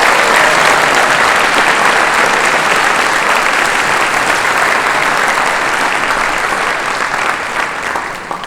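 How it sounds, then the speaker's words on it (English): Audience at a university athletic hall of fame induction ceremony clapping, dense and sustained applause filling the room before slowly tapering off near the end. "let's give them and our Hall of Fame committee a round of applause"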